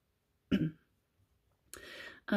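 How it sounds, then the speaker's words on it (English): Two short, raspy throat clearings close to the mic, separated by a pause, with a third beginning right at the end. "Just enjoy me clearing my throat a lot in the background."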